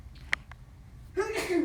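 A single sneeze bursts out in a quiet room during a high-school algebra review, then a voice follows right after.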